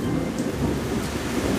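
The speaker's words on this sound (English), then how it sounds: "And you heard that thunder, right?" Thunder rolls low and steady beneath heavy rain, a continuous rumble with no clear single crack, the rain hiss constant throughout.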